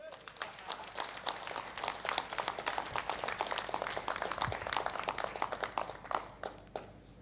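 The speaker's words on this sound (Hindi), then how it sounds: "तो जोरदार तालियां" Applause from a seminar audience at a restaurant, many hands clapping in a steady, dense patter throughout at moderate loudness, with voices mixed in underneath.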